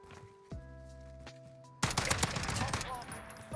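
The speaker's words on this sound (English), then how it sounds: "Oh, another shotgun." Shotgun fire in Call of Duty Modern Warfare Search and Destroy, erupting loud and close as a dense burst of blasts that cuts off a steady tonal hum of game sound.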